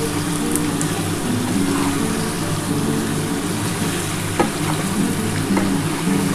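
Mutton with chili powder and spices sautéing in a pan, a continuous close sizzle with occasional scrapes and stirring knocks and no speech.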